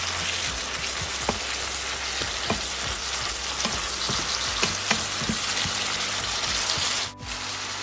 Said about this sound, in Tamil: கொஞ்சம் தக்காளி அப்படியே கொஞ்சம் நேரம் 1 நிமிஷம் போட்டு இதை அப்படியே வதக்கணும்